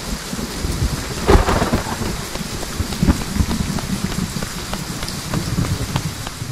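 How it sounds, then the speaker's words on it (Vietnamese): Steady rain pours down with a dense patter, and a rumble of thunder rolls in near the start and again midway, loud and continuous with no voices. "mưa rồi"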